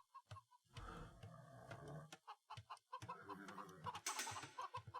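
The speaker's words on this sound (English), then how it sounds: "And the chickens will not shut up, dude." Chickens cluck and squawk nonstop in an Age of Empires match, a dense, loud run of overlapping bird calls with short bursts and a harsher flurry near the end.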